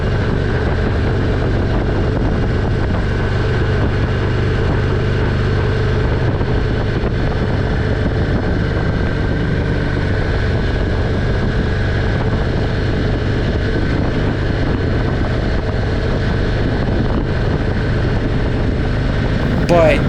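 A Harley motorcycle rolls downhill on a mountain road, its engine a steady loud drone blended with heavy wind rush across the microphone, continuous and close throughout.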